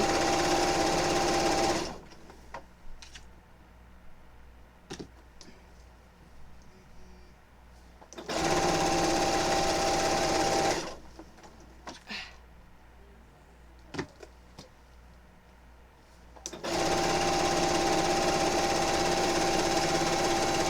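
A sewing machine sews quilt binding down along the raw edge of a quilt in two long runs, each a steady, loud mechanical hum, separated by quiet pauses with faint clicks and handling sounds.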